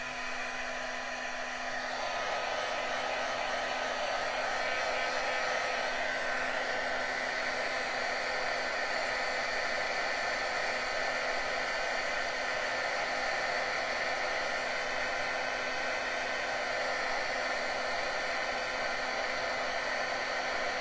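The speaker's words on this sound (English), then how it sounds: "now I gotta heat up my heat gun, and so bear with me for a minute while we emboss this." A heat gun runs steadily at close range while embossing powder is melted for stamped greeting cards, producing a loud continuous blowing roar that holds almost unchanged throughout.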